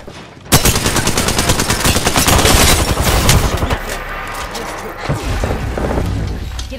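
Loud, dense machine-gun fire in Apex Legends, rapid sustained bursts close by with heavy booming impacts, tapering into scattered shots toward the end.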